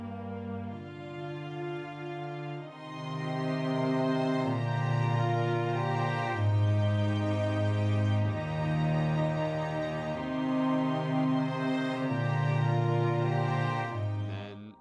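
A full band song swells with soaring strings carrying the melody as it builds toward the chorus, sustained chords shifting every couple of seconds over steady low notes, loud and continuous with no voices.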